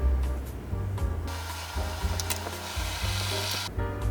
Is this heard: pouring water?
yes